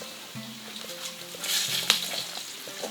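Potatoes tumble back into a hot kazan for kazan kebab, and the frying swells into a brighter crackling hiss midway before settling, while faint tonal hums run underneath.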